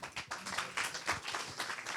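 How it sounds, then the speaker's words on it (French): An audience at a French conference on debt, the euro and politics applauds the president, a quiet, steady patter of many hands clapping together for a couple of seconds without speech. "On peut applaudir le président."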